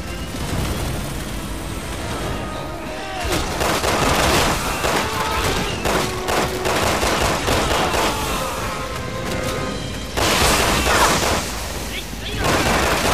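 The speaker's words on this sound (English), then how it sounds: "I have some explosive rounds to even the odds." Explosive rounds fire in Resident Evil 6 gameplay, a dense barrage of booming shots and bursts over continuous game noise, loud and sustained, with a voice speaking at times beneath the gunfire.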